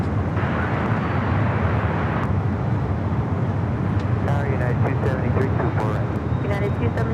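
An airliner takes off from runway 25 Right at LAX, making a steady, loud, broadband jet roar throughout. A voice talks over it in the second half.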